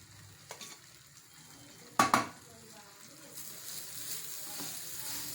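A spoon stirs grated coconut into thick homemade sugar syrup for coconut laddoos, giving soft scraping and sticky sizzling sounds with a sharp pair of clanks midway, fairly quiet overall.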